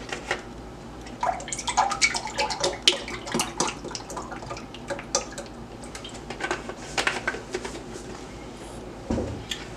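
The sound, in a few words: milk being poured into a saucepan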